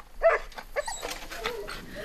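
An Anatolian guarding dog, a livestock guardian kept with a farmer's flock in northern South Africa, gives a few short yips and whimpering barks, fairly faint, followed by murky background noise.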